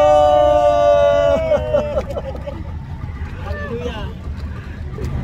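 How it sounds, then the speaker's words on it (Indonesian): A speedboat heading back to Jayapura, its engine rumbling low beneath a long wavering tonal whine that fades, with voices chattering over it throughout. "kita sudah naik di atas speedboat menuju pulang ke Jayapura"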